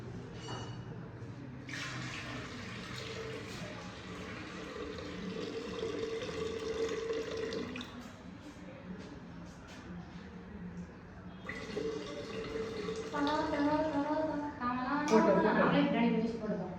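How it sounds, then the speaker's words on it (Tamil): Samba rice is washed and the rinse water poured out, with two stretches of splashing, trickling pouring close by and voices talking in between. "இப்போ வந்து நம்ம வந்து அரிசி களைஞ்சி அந்த தண்ணியை வந்து ஊற்ற போகிறோம்."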